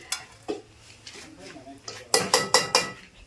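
A metal tea pot is handled in a kitchen: a few light clinks early, then four sharp, bright metallic clanks in quick succession close by, with faint talk in between.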